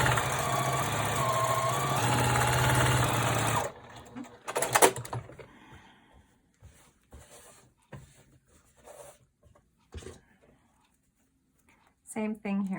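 A sewing machine runs steadily for a few seconds, stitching a seam on a scrappy 16-patch quilt block. The hum is fairly loud and continuous, then stops, and brief handling and fabric rustles follow.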